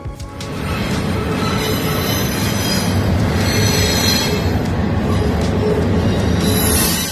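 Remote-controlled freight trains move through a rail yard, steel wheels squealing loudly and continuously over a heavy rumble of rolling railcars, close by with no talking.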